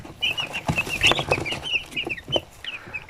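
Broiler chicks, about 80 to 90 grams each and some thirty in number, chirp in a steady run of high, close peeps. The calls overlap with soft rustling and clucking-like chatter, and no one speaks.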